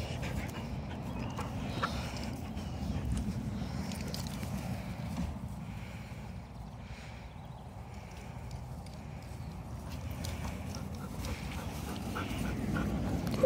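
A dog pants steadily after playing fetch with a ball, a soft, rapid breathing rhythm heard close up and fairly quiet throughout, with no talk over it.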